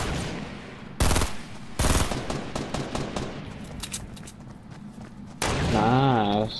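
Bursts of gunfire in a Fortnite battle royale match, sharp loud volleys separated by quieter stretches with scattered single shots and a few thuds, plus a rising electronic tone near the end.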